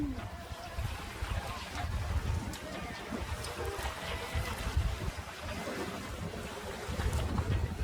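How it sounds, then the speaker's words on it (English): Water slaps and washes around a MacGregor 26 sailboat under way in choppy conditions, with irregular splashes and wind buffeting over a low engine-like rumble, close and continuous throughout. "Some big waves coming now."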